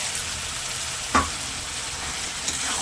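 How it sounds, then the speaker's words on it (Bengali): Fried prawns sizzle in a pan during stirring, a steady close frying hiss with a single sharp clack of the utensil on the pan partway through. "এরপর দিয়ে দেবো ভেজে রাখা চিংড়ি মাছগুলো,"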